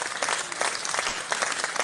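Applause from a crowd in a live audio space, a steady dense patter of many hands clapping close and loud throughout, with no talk over it.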